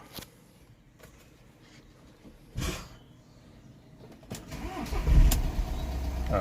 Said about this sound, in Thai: เดี๋ยวลองสตาร์ทเครื่องดู